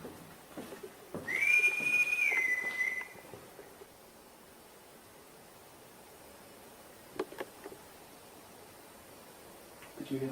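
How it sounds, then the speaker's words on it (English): A person whistles a clear, rising then wavering tone for about two seconds, followed by quiet rustling and a few faint knocks. "Can you whistle for us? I'm going to whistle first."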